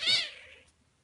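A single short, high kitten meow, close and clear, fading quickly into quiet.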